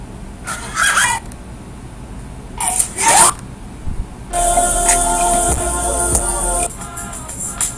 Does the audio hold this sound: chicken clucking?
yes